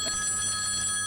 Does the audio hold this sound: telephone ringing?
yes